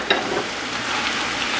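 Spinach with onions and chili pepper being stirred in a skillet, a steady soft sizzle of frying with faint scraping movements, close and continuous throughout.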